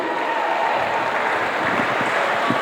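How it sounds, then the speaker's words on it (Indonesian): An audience at an evening Indonesian Independence drama event claps for attending parents, a dense, steady wash of applause filling the room with no voices over it. "berikan tepuk tangan untuk Bapak Ibu yang sudah hadir"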